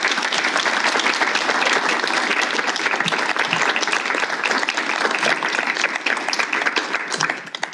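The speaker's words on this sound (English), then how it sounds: "So a round of applause for our candidates." An audience at a candidate forum applauds steadily for the candidates, a dense, sustained clapping from many hands at close range that holds strong throughout before thinning slightly at the end.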